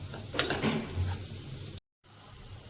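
Crushed seeds dropped into hot oil in a pan, sizzling and crackling loudly at first with a stirring scrape, then settling into a softer steady fry after a brief gap.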